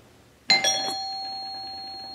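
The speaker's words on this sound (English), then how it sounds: "That was the neighbor's doorbell." A single doorbell chime rings out once, its tone lingering and slowly fading, with no one talking.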